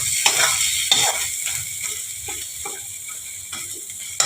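A hilsa fish head is stirred and crushed with a metal spatula in a frying pan. Steady oil sizzle runs throughout, with sharp taps and scrapes of the spatula against the pan at irregular intervals.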